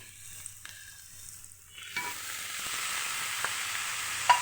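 Spinach is dropped into hot oil for a Kerala cheera thoran. A quiet pan suddenly bursts into steady frying and sizzling that holds at moderate loudness, with a few stirring clicks.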